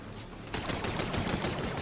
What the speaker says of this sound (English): I just kept trying to fire like a single shot or something, and that's why the blaster wasn't working